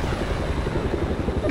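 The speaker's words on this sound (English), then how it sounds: "That helicopter didn't stand a chance" A helicopter in the video game World in Conflict thrums with a steady rotor and engine drone, loud and continuous with no pauses and no talk.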